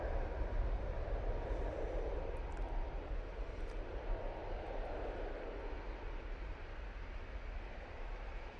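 An easyJet airliner lands at Manchester Airport, a faint, distant, steady engine rumble with a soft swell early on and no talk over it.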